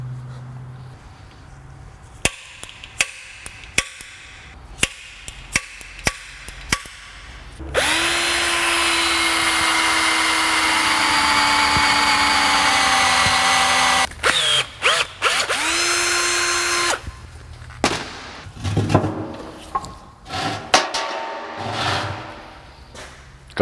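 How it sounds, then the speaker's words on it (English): A power drill boring holes in metal brackets for a car's intercooler and turbo cold side pipes, with bursts of short drilling and taps followed by a long steady whine, then more brief stop-start drilling and handling noises close up. "car where I want to drill the holes in"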